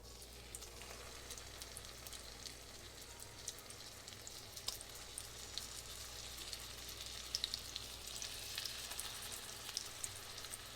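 Salisbury steak patties fry in a bubbling pan with a steady, close sizzle and faint crackling pops throughout, no voices over it.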